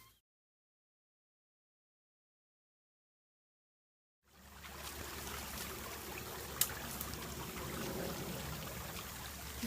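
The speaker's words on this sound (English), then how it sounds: "We've had a lot of rain, so the creek is rather full of water" A rain-swollen creek flows with a steady, faint rushing wash. It starts after several seconds of silence and then carries on evenly with no voices.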